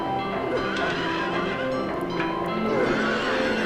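Horses neighing in the Silent Hill 3 video game, repeated whinnies over a dense mechanical bed of ride noise and clip-clop, with a faint voice in the mix.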